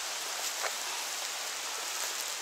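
Steady rain falls outdoors in the woods during a mushroom-picking outing, an even hiss of drops with faint taps, constant and moderately quiet, with no voices.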